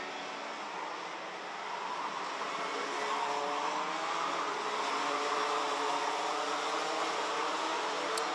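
Junior MAX racing karts circulate the track at Genk during a final, their engines blending into a continuous buzzing whine that swells slightly as the pack passes, heard at a distance with no talk.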